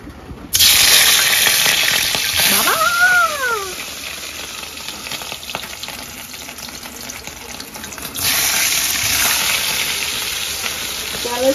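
Hilsa fish fries in hot oil with a loud, steady, close sizzle that swells again partway through, while a cat meows briefly in the background.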